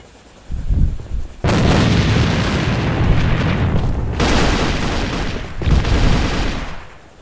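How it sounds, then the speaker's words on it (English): Loud grenade blast and rapid gunfire from the online shooter Alliance of Valiant Arms on an airplane map, heavy booming bursts that fill most of the clip, with a short pause before a second round of explosive fire. "they just threw a grenade"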